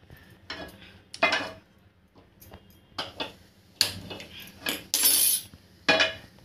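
A pan is set onto a gas stove, with several close metallic clanks and clatters of cookware in quick irregular bursts, a hiss of the burner faintly underneath, and no talking.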